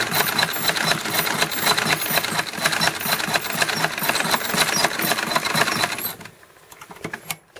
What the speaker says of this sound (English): I give the wheel a little crank with my hand to get myself going and get my rhythm started, and then I can just treadle away